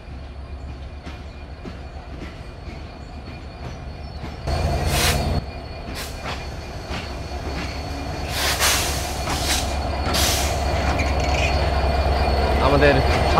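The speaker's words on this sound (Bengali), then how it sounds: "আমাদের 733 নাম্বার তিতুমির এক্সপ্রেস ট্রেনের লোকোমোটিভ শান্টিং হচ্ছে। এখন এই যে ট্রেনের সাথে সংযোগ দেওয়া হচ্ছে।" Diesel locomotive of the 733 Titumir Express shunting and coupling onto its carriages, with a steady engine rumble, heavy clanks and a sharp metallic impact, then repeated high wheel squeals growing louder nearby.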